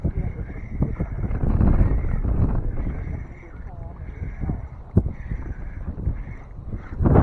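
Wind gusts outdoors during a summer fishing trip with a jerkbait lure, a steady low rumbling roar of air buffeting the microphone that rises and falls across the whole stretch, close and fairly loud.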